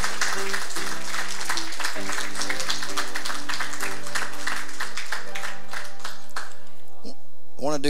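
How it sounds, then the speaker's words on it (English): Church congregation clapping in praise during a baby dedication, a loud, dense burst of hand claps under singing or music tones that fades out near the end, followed by a brief voice. "Give the Lord a hand clap of praise for this beautiful family."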